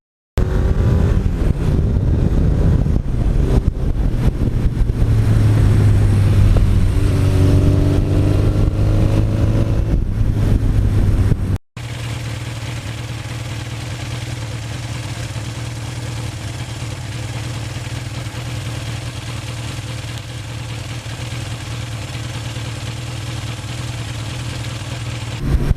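A 1982 Suzuki GS1100E motorcycle engine runs steadily, first with a loud, throaty mid-range drone and a brief rise in pitch, then after a sudden break a lower, even hum continuing without pause.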